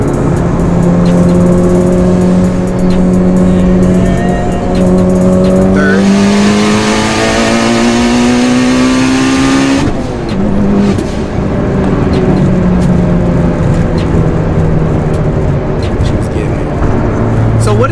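A Mitsubishi Evo 8 on Team Flex Z coilovers pulls hard from fourth gear, its engine note climbing steadily, then dropping at a shift around ten seconds before building again, loud and close with people talking over it.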